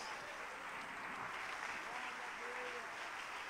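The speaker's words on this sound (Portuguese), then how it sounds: "Vamos dar um aplauso bem forte para Jesus." Congregation applauding in a church during an anniversary service, a steady, even wash of clapping filling the whole stretch at moderate level, with faint voices mixed in.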